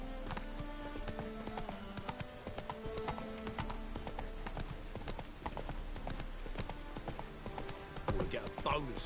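Galloping horse hooves thud in a fast, steady clip-clop rhythm in the video game The Witcher 3: Wild Hunt, up close and continuous, with a voice speaking over them.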